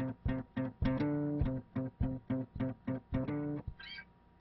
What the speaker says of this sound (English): you'll hear the bass playing these staccato eighth notes.